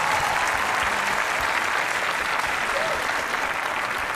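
A theater audience at a Rat Pack tribute show claps steadily in dense, sustained applause with a faint crowd murmur, heard at a fair distance.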